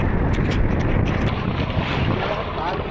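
Steady, loud wind buffeting over water during a storm on a fishing boat, with a constant low roar and rushing hiss; no talking.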